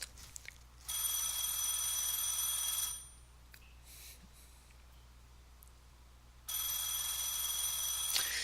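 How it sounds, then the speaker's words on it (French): A telephone rings in two long, steady bursts separated by a few seconds of quiet, moderately loud and with no voices. "ce téléphone-là est vraiment, vraiment étrange"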